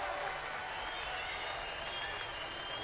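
Crowd at a women's MMA event applauding two fighters after their bout, with steady, dense clapping throughout at a fairly distant, moderate level.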